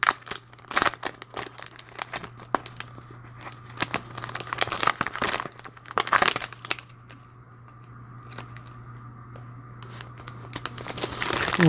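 Plastic wrapping of a subscription box package crinkles and tears in bursts as it is opened, close by and fairly loud, with sharp crackles clustered early and rustling continuing more sparsely afterward over a low steady hum.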